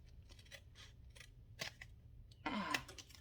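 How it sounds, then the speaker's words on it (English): Scissors trim paper for an accordion-fold junk journal, giving several quiet, separate snips close up and ending in a louder, longer cut near the finish, with no talking. "let's see if I can trim this without cutting the bottom off"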